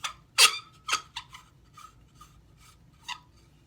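Brass flashlight end cap unscrewed on its patinated threads, giving a few close, sharp rasping scrapes followed by fainter gritty rubs as the cap turns.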